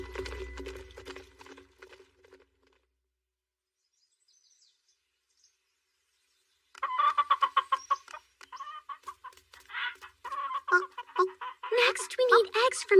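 Chickens cluck in short repeated bursts after a long quiet stretch, the calls growing busier and louder toward the end, with a voice heard briefly at the start.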